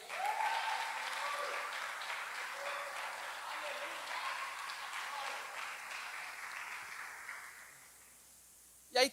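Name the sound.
congregation applauding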